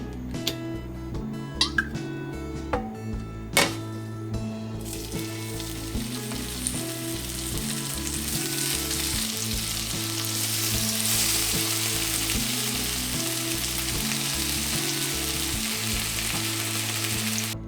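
Marinated pork belly slices fry in a pan, a few sharp clatters and clicks at first, then a loud, steady, close sizzle that swells and stays dense throughout.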